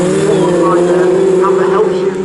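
Heritage Formula Ford race cars drone through a bend at Cadwell Park as they head toward the listener, a sustained engine whine running underneath a commentator's voice.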